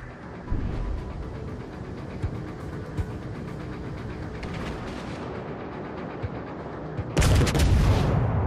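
An artillery barrage called in as fire support in World of Warships: Legends: distant booms and rumbling shots scatter across a continuous low din, ending with a heavier, louder salvo of impacts.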